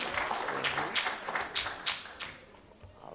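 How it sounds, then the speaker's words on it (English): An audience at a Kwanzaa celebration in a library gives a short, light round of applause, scattered claps and taps that thin out after a few seconds, with no talk over it. "let's give her a round of applause"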